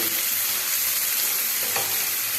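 Spice paste sizzles and fries in oil in a pan for a vegetarian flour chilli dish, a dense, even crackle that stays steady and close throughout, with one faint scrape near the end and no talking.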